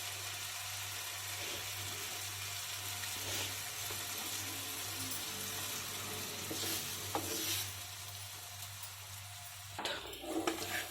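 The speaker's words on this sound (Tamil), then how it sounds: "முட்டை போட்டு நம்ம நல்லா கலந்து விட்டுக்கணும்" An egg sprinkled with pepper is stirred in a frying pan over a steady, fairly quiet sizzle and low hum, with soft scraping strokes and a louder clatter near the end.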